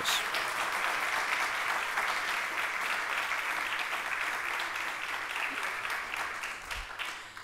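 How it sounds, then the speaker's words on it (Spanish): A large audience applauds award winners, teachers honored at a national event, in a steady, even wash of clapping that slowly tapers toward the end. "Les pido un gran aplauso para todos ellos."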